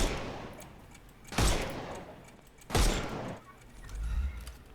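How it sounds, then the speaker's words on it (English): Gunfire in the Sherlock Holmes: Chapter One video game: two loud, sharp shots spaced about a second and a half apart, each followed by a short decay, then a low rumble. "Shoot off their armor."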